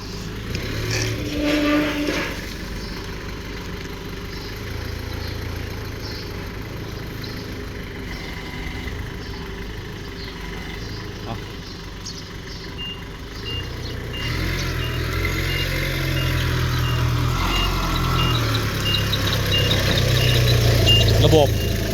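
A forklift engine rumbles steadily throughout, growing slightly louder and heavier toward the end, with faint clatter and occasional voices in the background.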